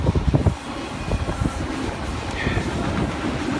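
A train rumbles past nearby at Wallula Gap, a steady low roar with rattling wheel clatter and some wind buffeting the microphone.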